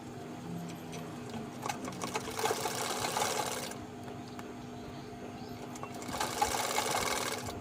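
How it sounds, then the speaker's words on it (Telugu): An electric sewing machine stitches the edge of a long umbrella frock in two bursts of rapid mechanical whirring and ticking, separated by a quieter pause, close and steady. "ఇప్పుడు ఆ చివరి అంచున మనం ఆ కుట్టేసుకోవాలి"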